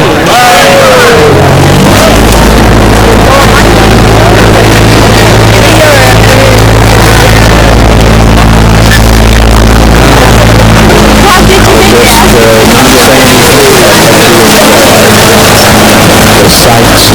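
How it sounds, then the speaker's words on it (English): A loud, steady canal tour boat engine drones low throughout in Holland, with a busy crowd of voices and general bustle layered over it. "The sights and sounds of a boat trip through the canal."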